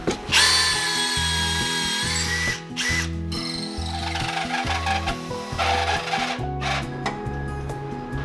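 Power drill at work on a 90-year-old wooden boat's new bow timbers while temporary 10mm threaded bar fastenings are fitted: a loud, close, pulsing motor whine with rhythmic surges, plus scraping and rubbing against the wood.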